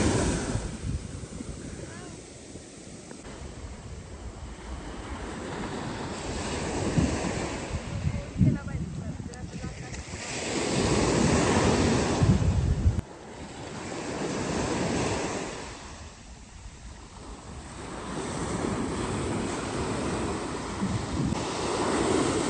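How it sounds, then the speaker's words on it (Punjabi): Deep-water sea waves surging and crashing on a beach on the Malvan coast, a continuous loud roar swelling and receding in long slow sets, with wind buffeting the microphone. "ਪਾਣੀ ਜ਼ਿਆਦਾ ਗਹਿਰਾ ਇਸ ਕਰਕੇ ਛੱਲ ਵੀ ਉਨੀ ਜਿਹੀ ਲੰਬੀ ਹੋਵੇ"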